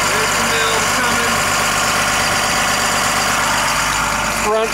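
A front-mounted Cummins diesel in a 2003 Thomas Saf-T-Liner 52-passenger bus idles close by, a steady loud rumble with a constant low hum that runs unbroken and ends in a brief shift.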